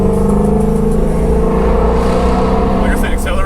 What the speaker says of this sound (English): Don't let off all the way, but you hear that? Pops and burbles.